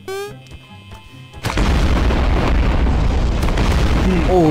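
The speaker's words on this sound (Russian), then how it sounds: "А, два взрыва было." A brief musical tone gives way to a sudden loud explosion in Garry's Mod, a deep booming roar that sustains and rumbles on.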